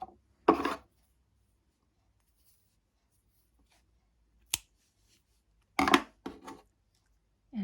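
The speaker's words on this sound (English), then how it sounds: "Now cut your yarn." Scissors cut crochet yarn in a few short, dry snips separated by silence, close and fairly quiet.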